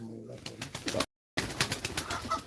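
Pigeons coo softly in a coop at a live pigeon auction, low throaty calls that stop briefly and resume, with someone talking nearby.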